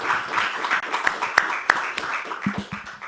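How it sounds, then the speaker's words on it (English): A lecture audience at a climate change talk gives scattered applause, uneven claps with a few sharp, loud individual hits standing out, thinning toward the end as a voice starts speaking. "Let's give her a round of applause."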